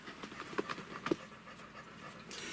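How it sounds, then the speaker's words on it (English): A dog wearing a life jacket on a hot day pants rapidly and steadily at close range, with a few sharper breathy gasps standing out early on. "Can you hear the dog panting?"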